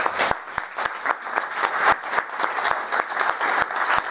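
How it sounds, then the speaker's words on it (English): An audience at a consumer advocacy panel event gives the panelists a round of applause, a steady burst of many hands clapping together, with a few sharper claps standing out and no speech. "could you all give them a round of applause, please?"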